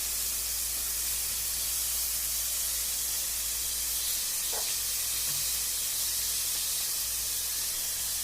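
Onions browning in a pan give a steady, moderately quiet broadband sizzle and hiss that holds evenly throughout, with no talking.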